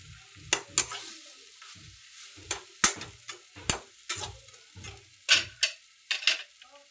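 Bharit, a mashed vegetable dish, is stirred and fried in a pan with coriander: a steady soft sizzle runs underneath while a spoon scrapes and clacks against the pan in irregular strokes, close and clear, with no talking.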